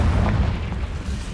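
Confringo spell blast in Hogwarts Legacy, a deep rumbling boom that rolls on briefly and fades, loud and heavy in the low end.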